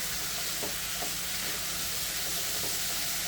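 Brinjal frying in hot oil, a dense, continuous loud sizzle with a few faint stirring scrapes underneath.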